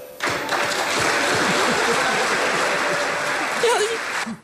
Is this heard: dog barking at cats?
no